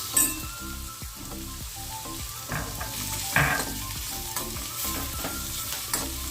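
Mixed vegetables with radish pieces sizzle in a pan for a Gujarati mixed-vegetable sambharo, a steady hiss broken by occasional stirring scrapes and light clinks, close and moderately loud.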